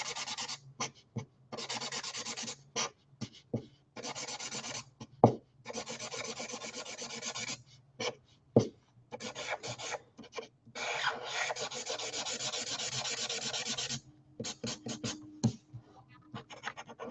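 A chisel-tip marker scrubs quickly side to side across paper in repeated close, dry rasping strokes, broken by short pauses between bursts.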